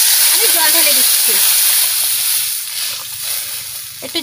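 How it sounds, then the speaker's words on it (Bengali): Water poured into a pan of fried spices and ground chilli paste, giving a loud hissing, steaming sizzle that slowly fades, with a voice heard briefly over the start. "গুনিয়ে ভাজা হয়ে গেছে, আমি জল ঢেলে দিচ্ছি।"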